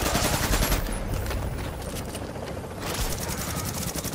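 Rapid shotgun fire in the video game The Division, with dense, loud bursts of gunfire in the opening second and again after a brief lull, set against steady game noise.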